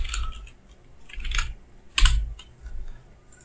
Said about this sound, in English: Let's say I am typing hi everybody